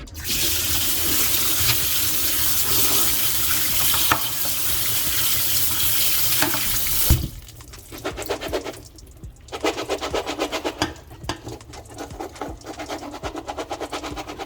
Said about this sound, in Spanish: en un colador las vamos a lavar con abundante agua fría para retirarle la mayor cantidad de almidón